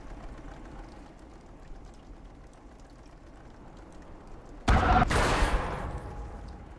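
A single heavy tank cannon shot in the WWII game Gates of Hell: Ostfront, a sudden loud blast with a rolling echo that follows a stretch of low battlefield ambience.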